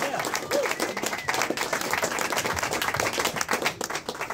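A crowd applauds at the close of a concert at Sims Music, dense steady clapping with scattered cheers and voices mixed in, sustained and fairly loud throughout.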